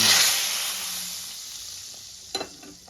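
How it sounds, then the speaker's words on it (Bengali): Hot spiced tempering poured into bean-seed dal cooked with a rohu fish head bursts into a loud sizzle that gradually fades to a soft hiss, with a couple of light clinks near the end. "আমি গ্যাসের ফ্লেমটা বন্ধ করে দেব আর উপর থেকে আমি ঢেলে দেবো আস্তে।"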